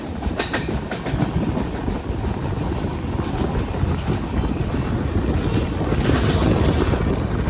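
Train moving slowly along a curve on a late summer special service near Patna, a continuous rumble with clattering wheels and wind buffeting the microphone, close and fairly loud with no talk.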